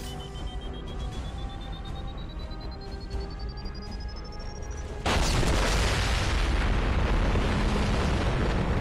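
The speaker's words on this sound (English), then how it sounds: "Big explosion." Big explosion in Mass Effect 2 on PS3: after about five seconds of quieter combat hum with a rising whine, a sudden loud boom erupts and rumbles on to the end.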